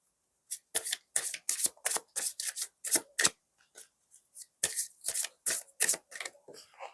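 Tarot cards are shuffled and drawn in quick papery riffles and flicks, close and crisp, with short pauses between bursts and no voice.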